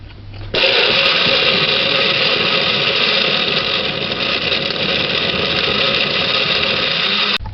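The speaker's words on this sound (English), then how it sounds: "Blend for 3 minutes straight." A blender blending coconut and water switches on abruptly and runs at a loud, steady whir for about seven seconds before cutting off.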